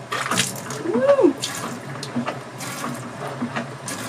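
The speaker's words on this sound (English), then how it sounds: "Water comes out of a tap without electricity." Water from a tap aboard a sailboat, running without electricity, comes out in uneven gushes and splashes at close range, with a brief squeak early on and quieter trickling bursts afterward.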